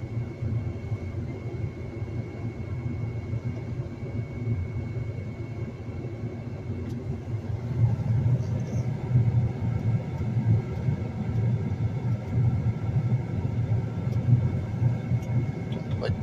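A CLAAS Axion tractor engine rumbles steadily at the edge of a field, a low continuous drone that grows slightly louder halfway through, with a voice speaking briefly over it.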